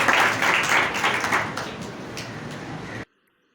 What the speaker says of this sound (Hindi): खुदा के खादिम का इस्तकबाल जोरदार तालियों से करेंगे,